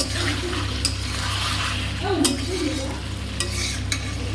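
Meat and potatoes stirred and sautéed in a pan, a steady low sizzle throughout with scraping stir strokes and a few sharp clinks of the utensil against the pan, close and moderately loud.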